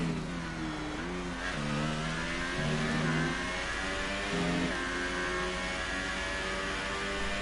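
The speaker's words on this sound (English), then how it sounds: "Giving you good sense of the engine noise there through turns 1, 2 and 3, pretty much flat out." Formula 2 race car engine in the F1 2018 video game at Abu Dhabi, a loud sustained high-revving whine held nearly flat out through the opening turns, with brief pitch dips at gear changes and no talk over it.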